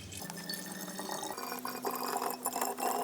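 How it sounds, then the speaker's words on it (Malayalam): Plain water poured into a bottle, a steady close filling gurgle with a slowly rising tone, alone without speech. "നമ്മൾ ആദ്യം വെള്ളം ഒഴിച്ച് കൊടുക്കാണ്"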